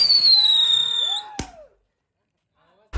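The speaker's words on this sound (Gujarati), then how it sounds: "હાલો ભાઈ સકડી આવી ગઈ." A Diwali ground spinner firework (chakri) whistles with a falling shriek, then a sharp crack follows, silence, and another burst begins at the end; voices are faintly present.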